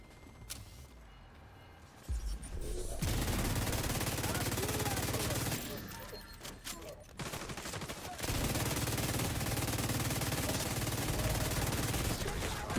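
Bursts of video game gunfire from several players crackle in dense, loud volleys, broken by brief lulls, with heavy continuous shooting filling most of the stretch.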